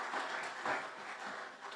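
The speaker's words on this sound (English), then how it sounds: "Can you clap for him?" Audience applause in a hall as a speaker named Arthur is welcomed to the stage, a soft, steady patter of clapping heard from a distance for a couple of seconds.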